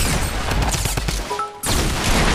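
Blasts of double-barrel shotgun fire in the Fortnite video game: dense, loud bursts of gunfire that break off into a short lull of faint tones, then return with full force.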